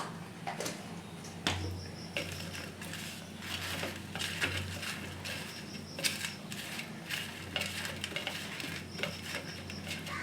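Hand-mixing hilsa fish with turmeric and salt in a metal bowl, giving soft squelching pats and occasional clinks of the dish throughout, close and moderately quiet, with no voices.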